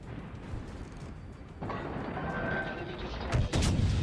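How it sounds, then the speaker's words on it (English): A battleship turret volley in World of Warships Legends: a deep rumbling boom swells and holds, with sharp crackling blasts near the end, loud over steady background noise. "Now that first volley of 2 turrets didn't do anything."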